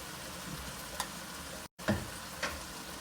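Tomato paste and spices sautéing in oil give a soft, steady sizzle with a few scraping stirs and one brief gap in the sound.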